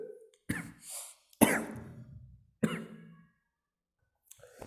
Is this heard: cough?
yes